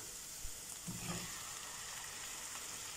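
Chopped tomatoes are stirred in a pan for tomato rice, with a faint, soft sizzle, a thud and a brief scraping near the start, then quiet continuous frying hiss; no voices.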